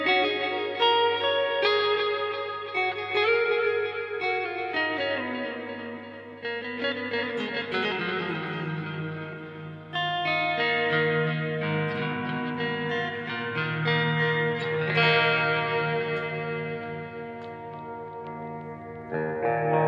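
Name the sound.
audio with modulated reverb and delay effects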